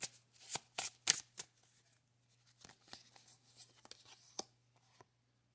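Tarot cards are shuffled up close in quick riffling bursts over the first second and a half, then soft scattered taps and slides as the cards are handled, faint against a low steady hum.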